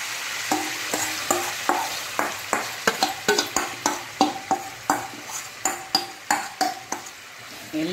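Marinated chicken is stirred in hot oil with fried onion, a spoon scraping the pan in a steady rhythm of regular strokes over a continuous close sizzle, with no voices.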